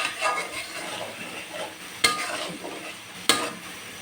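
Potatoes sauté in a pan with a steady sizzle under repeated stirring scrapes, and two sharp metallic clinks of the spoon against the pan stand out, part of a chicken and new potato curry.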